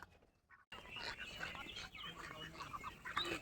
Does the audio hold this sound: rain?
no